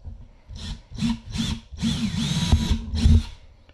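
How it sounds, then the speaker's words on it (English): A power drill whirs in several short bursts, then one longer run, each revving up and winding down at close range, drilling 5/32 holes for studs on a 2019 Toyota 4Runner. "here we're going to drill the holes"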